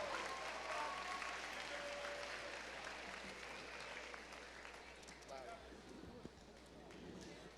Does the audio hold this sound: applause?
yes